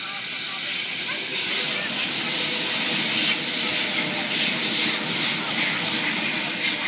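A Sydney Trains Oscar H-set electric train passes the platform at Wombarra, giving a loud, sustained hissing rush with a steady rolling rumble beneath it.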